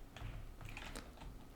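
Keys on a computer keyboard clack in a short, quick burst of typing, close and fairly soft, with no voices.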